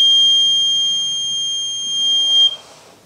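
A homemade laser security alarm's buzzer sounds a loud, steady, high electronic tone for about two and a half seconds before cutting off abruptly, leaving a quieter rustle behind.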